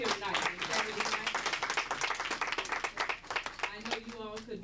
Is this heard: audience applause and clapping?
yes